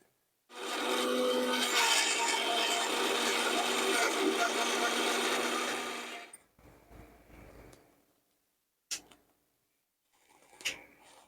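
A kitchen blender grinds tomato, coriander, ginger, garlic and spices into a paste, running loud and steady for about six seconds before stopping, followed by a few faint knocks and clinks.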